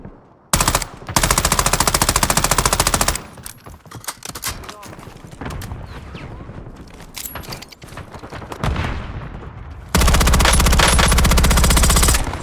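Sustained automatic gunfire in Call of Duty Warzone, a loud continuous burst early on, then scattered shots and game effects, and another loud sustained burst near the end.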